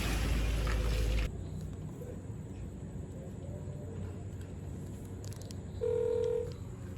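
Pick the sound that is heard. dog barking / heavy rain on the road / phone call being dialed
phone call being dialed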